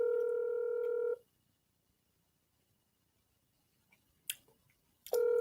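A steady electronic telephone tone sounds during a phone call, loud and continuous for about a second. It cuts off into near silence with a few faint clicks, then returns abruptly at the very end.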